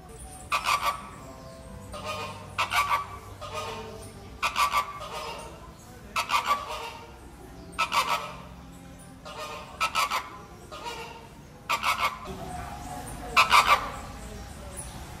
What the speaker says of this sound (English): So you might think that the flamingos are too loud for reading buddies.